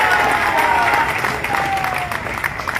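A crowd of young people claps at a Bajrang Dal Shaurya Jagaran Yatra rally, a loud, sustained wash of applause with a faint voice threading through it.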